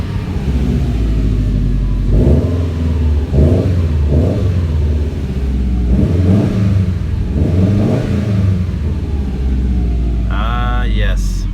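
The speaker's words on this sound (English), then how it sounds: "Let's get at least a few revs in there." A warm Subaru STI engine idles with a deep, lumpy burble, then takes several short blips of the throttle, each rising and falling quickly. The revs come close and loud, with a voice speaking between them.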